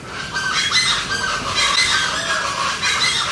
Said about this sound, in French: dites-vous, c'est un oiseau.